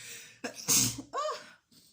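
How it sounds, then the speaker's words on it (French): A single sharp sneeze up close, set off by varnish fumes, preceded by a quick inhale and followed by a short breathy exhale, with no talking. "Je crois que c'est l'odeur du vernis qui me fait éternuer"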